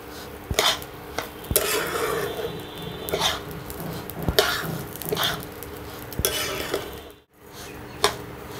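Rice being fried and stirred in a pan with a little turmeric, heard as repeated scraping and clinking of a utensil against the pan at an irregular rhythm, with a soft hiss between strokes and a brief gap near the end.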